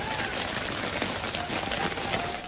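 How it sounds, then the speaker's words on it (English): Hail pelting down in Burbank during a morning storm, a dense, steady rattle of small impacts that fills the scene at close range with no talk over it. "At about 9 a.m. this morning, a whole bunch of hail started coming down in Burbank."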